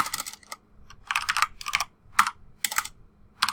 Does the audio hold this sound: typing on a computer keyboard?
yes